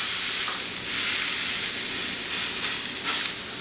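A ribeye steak fries in a smoking-hot pan, giving a steady, loud broadband sizzle with small surges and crackles, close and continuous, with nobody speaking.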